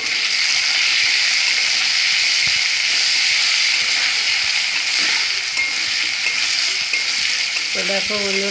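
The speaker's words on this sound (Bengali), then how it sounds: "এই যে মাছ ভাজা দেখুন।" Fish pieces fry in hot oil in a home kitchen pan, giving a steady, loud broadband sizzle throughout, with a brief voice near the end.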